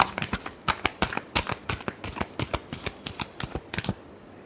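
Tarot cards are shuffled by hand, a quick series of crisp riffling snaps and slaps in an uneven rhythm, close and clear, ending in quiet.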